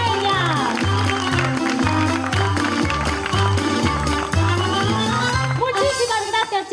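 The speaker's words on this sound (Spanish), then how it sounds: "¡Aplausos para ella!" Audience clapping for a girl at a children's theatre show, heard under loud music with a pulsing bass line and a bright melody, with some voices mixed in.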